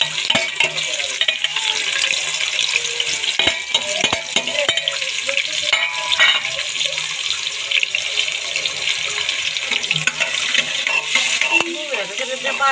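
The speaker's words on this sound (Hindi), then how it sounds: "घी गर्म हो गया है। मैं इसमें प्याज डालूंगी।" Onions frying in hot ghee in a cooking pan for a black chickpea curry: a steady, close sizzle and hiss with occasional stirring clinks and scrapes throughout, no talking.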